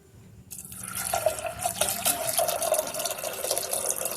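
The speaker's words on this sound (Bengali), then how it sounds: "দিয়ে আমি এতে পরিমাণ মতন জল দিয়ে দেব।" Water gushes from a tap into a pressure cooker holding lentils, starting abruptly after a brief pause and pouring steadily with a bright splashing rush.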